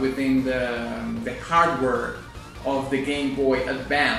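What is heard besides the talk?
None of the usual background noises is heard.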